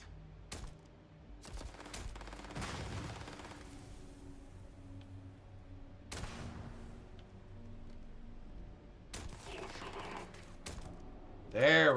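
Sharp gunshots from a sci-fi shooter set in space, scattered bursts and single cracks at middle distance over a steady game ambience, with a louder shot right at the end.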